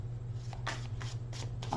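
A deck of tarot cards riffled and shuffled in a few quick bursts of papery flutter, close up, over a steady low hum.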